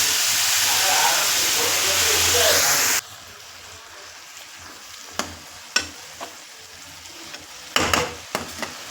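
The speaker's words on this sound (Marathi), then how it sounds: "मेथीची भाजी मी पण टाकून देईल कांद्याबरोबर ते पण परतल्या जातं" Fenugreek leaves sautéed with onions, a loud hissing sizzle for the first few seconds that drops to a quiet simmer, with occasional sharp clinks and scrapes of stirring afterward.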